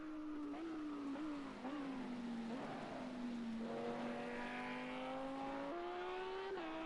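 A Lamborghini GT3 race car on the Nürburgring holds a steady engine drone as it runs to the finish line, the pitch dipping and climbing through gear changes, with other cars audible behind it.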